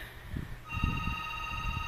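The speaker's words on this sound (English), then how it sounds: "I never answer my house phone" A house phone rings with a steady electronic tone that starts partway through and continues to the end over low background rumble and soft movement.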